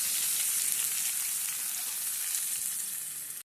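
Tempering seeds (popu) sputter in two spoons of hot oil for a beerakaya and chana dal curry, a loud, steady, close sizzle with fine crackling throughout, ending abruptly.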